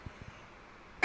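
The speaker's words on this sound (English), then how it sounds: "I got a cough" A single short cough, sharp and close, bursting out after a second of quiet room tone with a few faint soft clicks.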